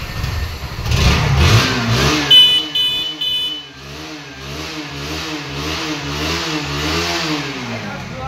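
A second-hand Bajaj Pulsar NS160 motorcycle engine at a used bike showroom revs hard for a couple of seconds, then settles into a rhythmic, throbbing idle, close and loud throughout.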